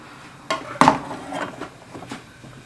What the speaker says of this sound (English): Just going to take it out of the oven.